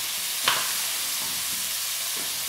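Onion going into a hot pan while cooking olive fries, with one sharp clatter followed by a soft, steady sizzling hiss throughout.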